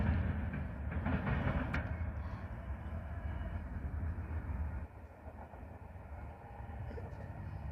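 A train rolls past in steady, heavy rumble with faint clickety-clack of the wheels, fairly close and continuous, easing slightly near the end.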